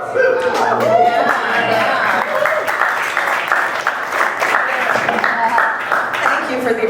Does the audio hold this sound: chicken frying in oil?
no